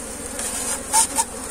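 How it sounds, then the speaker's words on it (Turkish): Honeybees buzz close up at an opened hive during an early colony split, a dense steady hum with a couple of louder passes from individual bees. "Arı yoğunluğu iyi, gayet güzel."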